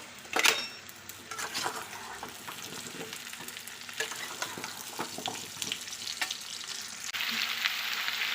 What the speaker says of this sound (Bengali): এখন আলুগুলোকে দিয়ে দিচ্ছি দিয়ে একটু ভালো করে নেড়ে দেবো